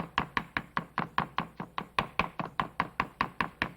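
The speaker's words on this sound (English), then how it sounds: "just chop it up fine with a sharp knife" A knife chops tomato steadily on a cutting board, about fifteen crisp even strokes in quick regular rhythm, close and alone.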